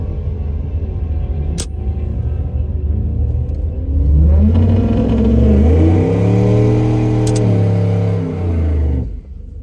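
A turbocharged Dodge Dakota RT pickup with a stock bottom end idles in a drag strip burnout box, then revs hard in rising and falling surges, loud and close, with brief sharp pops.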